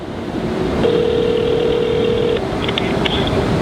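A telephone number being dialed: a steady tone held for over a second, then a quick run of short keypad beeps over a loud, constant background rumble, with no talking.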